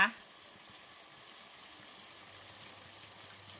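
Water bubbles softly and continuously at a low simmer, faint and steady throughout.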